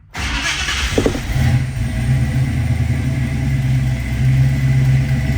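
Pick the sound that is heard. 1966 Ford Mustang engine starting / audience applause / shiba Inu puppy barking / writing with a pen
1966 Ford Mustang engine starting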